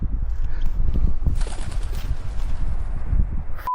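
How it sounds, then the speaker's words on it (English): A pigeon in a forest, with soft low cooing and rustling wing flaps at close range. The sound is moderately loud and ends abruptly, and no one speaks. "Fucking pigeon."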